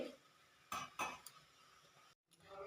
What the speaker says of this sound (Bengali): একটু নাড়াচাড়া করে 15 মিনিট ধরে ফোটাবো আমি এই ঝোলের মধ্যে।